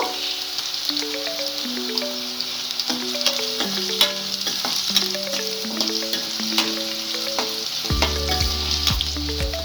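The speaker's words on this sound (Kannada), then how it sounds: "ಬೆಳ್ಳುಳ್ಳಿ ಸ್ವಲ್ಪ ಬ್ರೌನ್ ಕಲರ್ ಬರೋವರೆಗೂ ಫ್ರೈ ಮಾಡೋಣ" Garlic fries in a pan for a Karnataka-style avarekalu menthe dal, with a steady, dense sizzle and crackle running throughout, close up, under soft background music.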